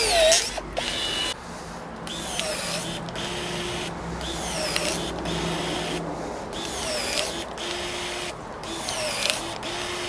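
Ryobi pruners biting through a thick branch, about three-quarters of an inch, in a series of repeated mechanical cutting strokes with short gaps between them, close and fairly quiet.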